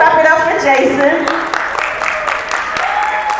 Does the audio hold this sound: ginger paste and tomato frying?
no